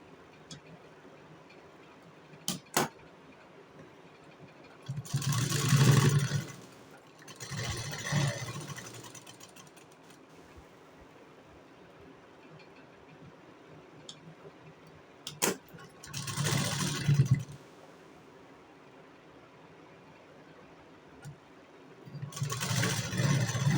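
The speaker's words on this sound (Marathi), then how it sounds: "आपल्याला स्ट्रेट शिलाई मारून घ्यायची ह्याला" A sewing machine runs straight stitching on a blouse in four short, quiet bursts of rapid mechanical whirring, with soft ticks and pauses between runs.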